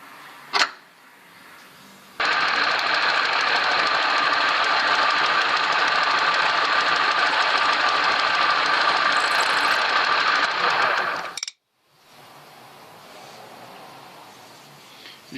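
A drill bores a 6 mm hole through a very hard, heated metal kick-start part from a Terrot VMS2 scooter, making a loud, continuous grinding whir for about nine seconds before stopping abruptly.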